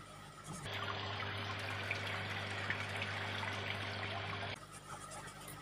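Water pouring steadily from a biofilter tank into a sump tank in a recirculating aquaculture system, a continuous broadband rush that starts abruptly, holds at a constant level for about four seconds, then cuts off, with a low steady hum underneath.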